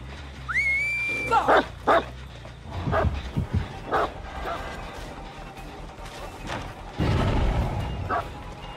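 In Dead by Daylight, a hound barks and yips in short sharp bursts, spread unevenly among crashes, whimpers and game effects, including a whistle-like rising tone near the start.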